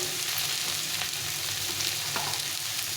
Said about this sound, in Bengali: আলু কুমড়োটা অনেকটা ভাজা হয়ে গেছে